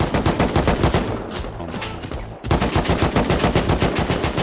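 Rapid automatic gunfire from the video game Rust, loud and close in regular bursts, briefly easing in the middle before the steady shooting resumes.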